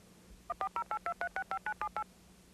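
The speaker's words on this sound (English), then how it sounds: "the phone automatically makes the call for me" A 1990 voice-recognition telephone auto-dials a call with eleven crisp DTMF tones in a quick, evenly spaced sequence over faint line hum, with no talking.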